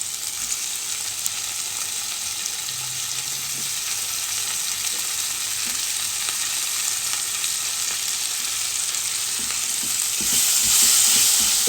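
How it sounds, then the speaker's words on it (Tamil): Tomatoes sizzle loudly and steadily in a frying pan as they are mixed in for thakkali gotsu, a dense, close crackle with occasional soft scrapes of the stirring spoon and a brief louder hiss toward the end. "ஸோ இப்போது தக்காளி ஆட் பண்ணிக்கிறோம்."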